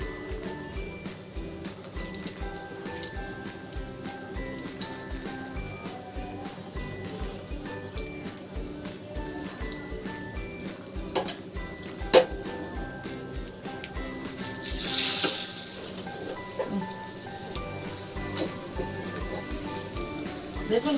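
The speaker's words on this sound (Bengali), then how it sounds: "এবার যেই আমি কাজুটা আর কিশমিশটা রেখেছিলাম এটা ঘিতে আমি ফ্রাই করে নিচ্ছি।" Cashews and raisins frying in hot ghee in a pan give a soft steady sizzle with scattered small clinks of a utensil, running throughout at moderate level with a brief louder hiss midway.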